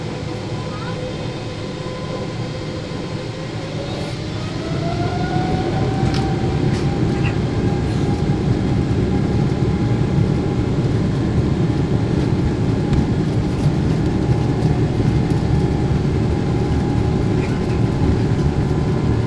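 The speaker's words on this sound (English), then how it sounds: "We are ready for takeoff." An Air France Boeing 777-300ER takes off, heard from inside the business class cabin as a steady loud engine roar that swells and stays, with a rising whine partway through.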